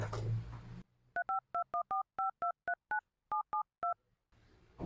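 Touch-tone telephone dialing: a quick run of about eleven crisp keypad beeps in uneven rhythm, heard clearly on their own after a short burst of background noise.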